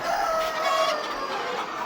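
Sonali and super hybrid chickens on a commercial poultry farm cluck and crow, with a drawn-out crow standing above a steady, close, busy background of flock chatter.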